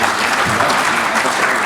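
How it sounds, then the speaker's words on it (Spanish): Audience applauding three speakers at a surgery congress session, a dense, steady clatter of clapping from a seated crowd throughout the short moment. "Por favor, un fuerte aplauso para los 3."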